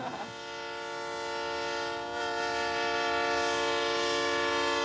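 A passenger train in Mexico rolls along and sounds its horn, a loud, sustained, chord-like blast that holds for several seconds over the rumble of the running train.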